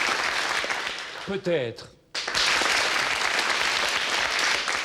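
A studio audience at a French television culture programme breaks into sustained, dense applause that fills nearly the whole stretch, briefly pausing while a voice speaks a single word before the clapping swells again.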